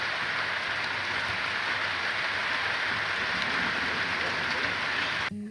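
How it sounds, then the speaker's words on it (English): Steady rain pours down on a farm, a dense, even hiss that runs unbroken and fairly loud before cutting off near the end. "And then the rain set in again."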